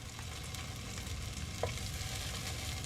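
Chicken parmesan meatballs sizzle and fry as they brown in a pan, giving a steady close crackle with one brief scrape midway and no talking.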